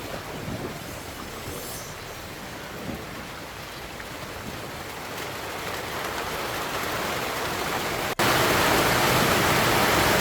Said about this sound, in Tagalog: Umuulan na ulit mga kahanap.